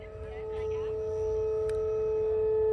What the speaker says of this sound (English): in case you're unfamiliar with that sound, that's a tornado siren.